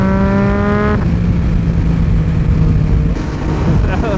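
A motorcycle accelerates hard through the gears and pulls away, its engine whine climbing then shifting down to a lower steady drone; loud and close throughout, with no talk.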